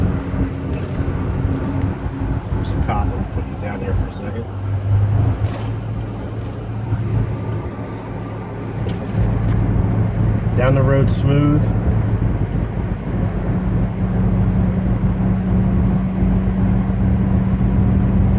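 A 1974 Buick Century Luxus cruising down a road, its engine and exhaust rumbling low and steady from inside the cabin, growing louder and fuller partway through, with someone talking intermittently over it.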